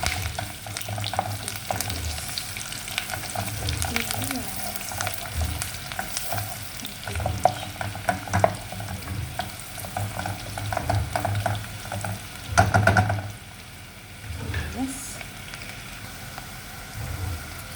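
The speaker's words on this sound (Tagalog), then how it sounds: "Tapos lagay ko na sibuyas pa." Onions sautéing in oil for beef adobo, a continuous close sizzle and crackle with occasional scraping and stirring clatter, no voices.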